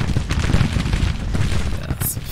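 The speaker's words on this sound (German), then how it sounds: "Klar, die Kanonen haben ihn wieder mal zurückgeschlagen." Cannon fire in Grand Tactician: The Civil War, a dense rolling barrage of booms and rumbling blasts that runs without pause, loud and close, with speech mixed under the din.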